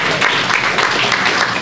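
An audience at a men's annual musical church event claps after a speech, a loud, close, continuous round of applause from many hands with no talking over it.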